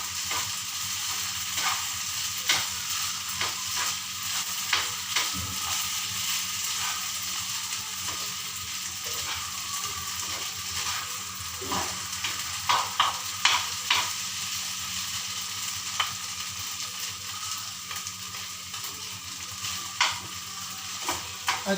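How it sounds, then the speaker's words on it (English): Sago (sabudana khichdi) sizzles and crackles steadily in a small, overfilled frying pan, with occasional clinks and stirring scrapes over a continuous frying hiss. "I should have taken a big frying pan because things are spilling out."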